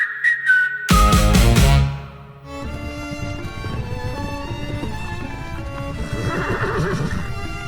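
A horse neighs loudly and close, a descending whinny mixed with whistling, followed by a sustained musical background without speech.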